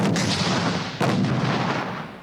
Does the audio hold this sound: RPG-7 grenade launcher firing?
yes